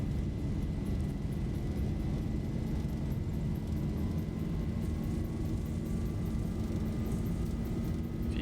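Simulated Boeing 737 takeoff roll in X-Plane 11, Southwest livery, a steady low jet engine roar with faint whine, continuous and moderately quiet with no voices.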